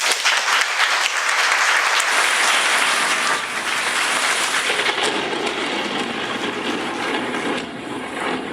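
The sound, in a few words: comedy club audience applause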